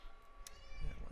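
A short, faint cat meow rises briefly over a quiet, slightly noisy room background.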